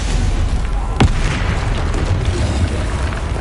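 The Stupefy spell in Hogwarts Legacy gameplay fires as a single sharp magical blast with a brief boom, over a steady rumbling game background.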